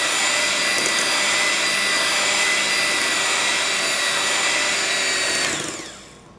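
An electric mixer blends eggs into cream cheese pound cake batter, a loud steady motor whine running continuously up close, then winding down and stopping at the end.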